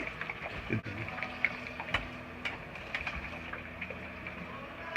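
Water poured into a pot of lumpy homemade Christmas gravy, a steady trickling and splashing with faint clinks of a utensil, heard close up over kitchen background noise.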